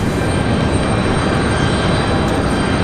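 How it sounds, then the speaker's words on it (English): A jet airliner on final approach to runway 5 Right at Raleigh-Durham International roars in a loud, steady broadband rumble that holds constant and close throughout, with no talking. "They are coming in at 5 right, the only runway. She is on final."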